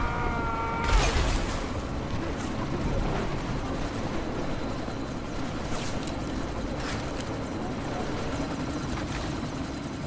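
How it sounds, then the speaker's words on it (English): A helicopter in the video game Deus Ex: Mankind Divided roars steadily and loudly throughout, a dense rotor rumble with thumping low end and no speech over it. "you need to disable that chopper"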